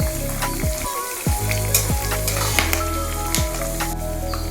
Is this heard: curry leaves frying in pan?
yes